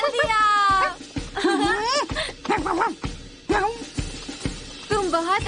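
A cartoon dog gives a series of short yips, barks and whimpers in quick bursts with brief pauses between them, mixed with voice-like tones.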